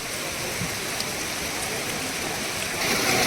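Steady heavy rain with rushing floodwater pours continuously in a village in Lakhtar, Gujarat, making a dense hiss that swells slightly louder near the end, with no voices.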